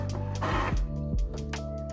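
Mechanical whirring and rattling of a printer feeding and printing, steady with a few thumping clunks, close by and with no voices.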